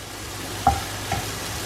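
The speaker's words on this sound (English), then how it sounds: "We have to just stir it for a minute so that the raw smell of the spices go." Spices stirred in hot vegetable oil in a pan for bun masala, a soft steady sizzle broken by two light scraping knocks of the spoon.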